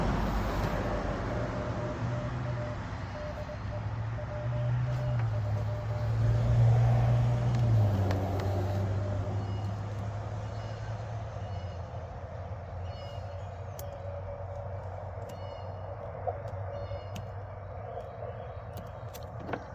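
Steady road traffic rumbles past a roadside spot, a broad continuous wash of passing cars that swells briefly louder midway, then settles into a constant background hum with occasional faint clicks.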